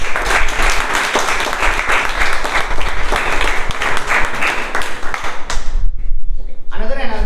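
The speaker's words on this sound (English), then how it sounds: "So can we have a big round of applause?" Big round of applause from a meeting audience at a public speaking club, honoring contest winners and runners-up; dense steady clapping for about six seconds, then a brief quiet gap before a voice starts speaking.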